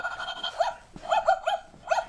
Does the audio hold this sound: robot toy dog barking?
yes